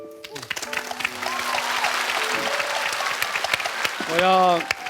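A studio audience on a Chinese debate show applauds in a steady wash of clapping, heard beneath and between a speaker's voice.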